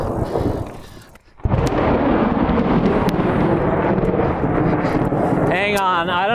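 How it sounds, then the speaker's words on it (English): Rolling thunder from a lightning storm over an open field rumbles loudly and continuously, with a deep swelling roar after a brief lull, and no clear speech over it. "It's getting scary out here with the lightning"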